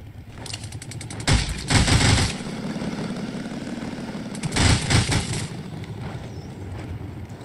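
Two short bursts of automatic gunfire in the mobile battle-royale game Rules of Survival, each about a second long with a bright crackle, heard against a steady engine-like background hum.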